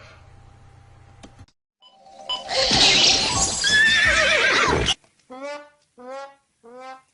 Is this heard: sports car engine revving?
no